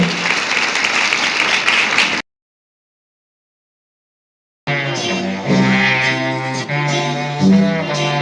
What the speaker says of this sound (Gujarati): તો જોરદાર તાળીઓ પણ હોવી જોઈએ